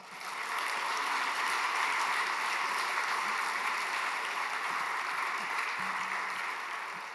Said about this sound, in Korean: 우리 큰 박수로 우리 사모님 모시도록 하겠습니다.